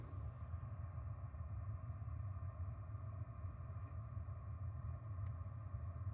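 An electric car drives along a road in northern Wisconsin, heard from inside the cabin as a steady low rumble of road and tire noise with a faint hum, unbroken and without talk.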